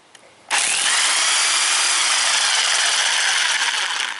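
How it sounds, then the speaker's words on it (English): A Harbor Freight electric impact wrench removes wheel lug nuts, running as one loud, steady, continuous whir that starts abruptly and holds close to the microphone with no talking. "It's a Harbor Freight electric impact wrench to take the lugs off."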